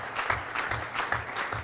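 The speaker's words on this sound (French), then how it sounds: "Je voudrais une session d'applaudissements" A conference audience bursts into brief applause, a short, moderately loud round of overlapping claps from a room full of attendees, with no talk.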